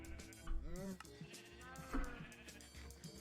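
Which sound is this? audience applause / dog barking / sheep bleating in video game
sheep bleating in video game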